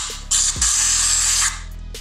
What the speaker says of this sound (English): Go ahead and give it another spray.